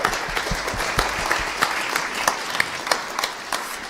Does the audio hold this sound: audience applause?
yes